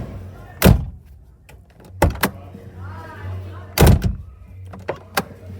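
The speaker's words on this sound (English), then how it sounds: "Wonder how these doors close too." Doors of a 1985 Holden VK Commodore shutting, with three solid thuds spaced a second or two apart plus lighter clicks and knocks, close and loud over a low idle hum inside the car.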